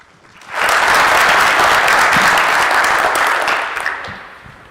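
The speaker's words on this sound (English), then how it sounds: "let's welcome our panelists with a round of applause" A conference audience greets a panel with a burst of applause that swells quickly, holds steady and loud for several seconds, then tapers off, with no voices over it.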